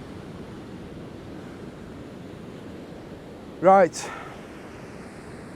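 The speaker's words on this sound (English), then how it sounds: "That wasn't a bite, that was waves." Surf washes steadily onto a beach on the Holderness Coast of England's East Coast during a beach-casting sea fishing session. The roar is continuous and mid-distance, with one brief spoken word near the end.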